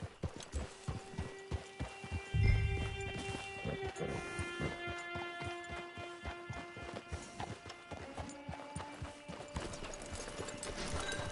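Steady clip-clopping horse hooves from the video game Red Dead Redemption 2 plod along at a walking rhythm, close and clear, with a soft thump early on and faint background ambience.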